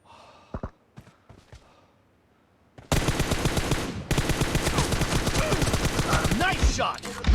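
Assault rifle gunfire in the video game PUBG: after a few sparse clicks, a loud sustained burst of rapid automatic fire starts near the middle and continues, with a brief break, to the end.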